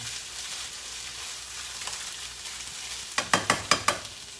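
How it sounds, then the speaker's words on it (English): Impossible plant-based meat stirred in a sizzling pan with a spoon, a soft steady fry punctuated near the end by a quick run of sharp spoon clinks against the pan. "Get the spoon and kind of stir it in."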